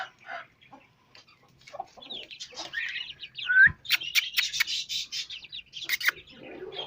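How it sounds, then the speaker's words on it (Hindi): Hens and chicks in and around a backyard coop, a busy mix of soft clucks, high peeping chick calls and chirps, close and moderately loud with no talk. "ये दड़बे के अंदर और दड़बे के बाहर मुर्गियों के मुज़ाकरात हो रहे हैं आपस में।"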